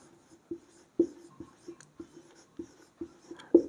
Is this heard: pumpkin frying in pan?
no